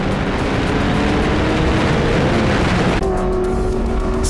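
Historic race cars, a Porsche and an Alfa Romeo, roar side by side around a circuit in a loud, continuous engine drone that shifts in pitch partway through as they pass.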